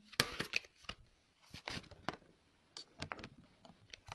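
Tarot cards being shuffled by hand in a series of quick, crisp riffling and slapping bursts with short pauses between, close up and fairly quiet, with no voices.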